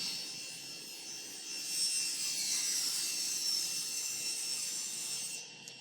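Table saw blade cutting a bevel through wood, a steady bright whine of sawing held for several seconds near and loud, easing off at the end as the piece clears the blade.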